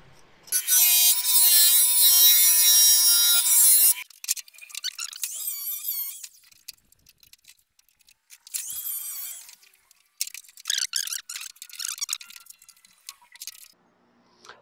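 Sheet-metal body panel on a Renault Super 5 is cut during bodywork, starting with a loud, high-pitched continuous grinding whine for several seconds, followed by short bursts of scraping, rasping cuts separated by quiet gaps.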